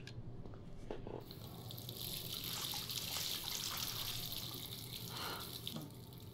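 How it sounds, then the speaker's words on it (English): Water running and splashing into a sink in the video game Life Is Strange, a steady broadband gush that holds for several seconds with small surges, fairly close and continuous with no voices over it. "so we're meant to be splashing water"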